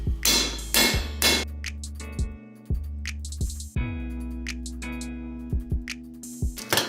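A hammer strikes a vise-grips-held grade 8 bolt used as a punch, driving wheel studs into an 8-lug Bronco rear axle hub in a star pattern: sharp metallic blows, several close together, then spaced knocks with ringing decay.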